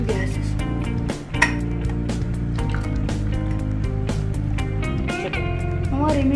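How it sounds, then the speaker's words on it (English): A boiled immunity booster drink is strained and poured into glasses, making liquid splashes and clinks of a utensil against dishes under steady background music. "Let's filter it and put in glasses"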